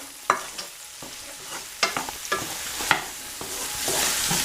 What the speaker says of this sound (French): J'ai rajouté dans mon ail une bonne cuillère d'harissa. Et on va remuer tout ça tranquillement.